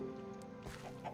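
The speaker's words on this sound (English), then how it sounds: "I have the chickens with me." Minecraft chickens give a few short clucks over a steady game background hum, fairly quiet and brief, with no talking.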